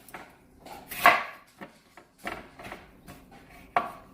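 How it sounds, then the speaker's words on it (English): A knife chopping vegetables on a cutting board while making vegetable beef soup: a handful of sharp, close knocks and scrapes spaced unevenly, with quiet gaps between strokes. "Then I just want to come down just like this and chop."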